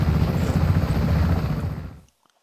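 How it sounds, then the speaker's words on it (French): Helicopter in the Just Cause 3 video game, a loud, heavy rotor-and-engine rumble that holds steady and then cuts off abruptly after about two seconds, leaving near silence. "Prends l'hélico, mon frère."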